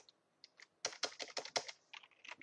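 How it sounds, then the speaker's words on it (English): Typing on a computer keyboard while entering an axis title in a spreadsheet: a quick burst of close, crisp key clicks in an uneven rhythm after a few scattered taps. "here I'll type in"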